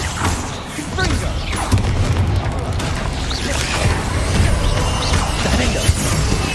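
Confringo fire spell explosions in the video game Hogwarts Legacy, dense booming blasts and crackling debris in a loud, continuous battle mix, with a voice calling out spell names over the action.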